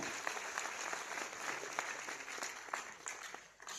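Steady applause from a crowd at a rank celebration event fills the clip, dense clapping at an even level with no talking over it.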